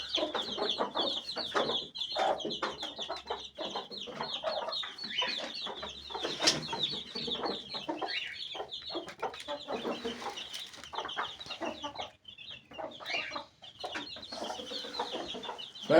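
Hens cluck continuously at close range while pecking at scattered grain in their coop, with chicks among them, a busy overlapping chorus of short clucks.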